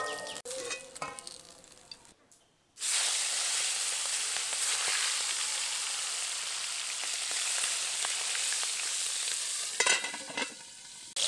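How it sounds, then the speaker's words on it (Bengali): Fish pieces fry in hot oil with a loud, steady close sizzle that bursts in after a brief quiet start and runs unbroken, with a few utensil clinks near the end. "যে মাছগুলো দিয়েছিলাম সেই মাছগুলো কিন্তু ভাজা হয়ে গেছে"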